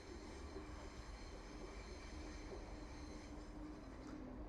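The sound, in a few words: East Midlands Railway train arriving at Derby station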